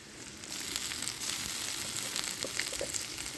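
Garlic paste frying in a hot pan gives off a steady, close sizzle with bubbly crackles that keeps on without a break, and nobody speaks.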